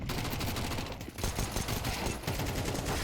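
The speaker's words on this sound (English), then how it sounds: "the P250 is able to just hold down one line of sight and just spam out" P250 pistol fire during a Counter-Strike esports playoff match sounds as dense, rapid gunfire. Overlapping shots crackle almost without pause for about three seconds, loud and close, with a brief dip in the middle.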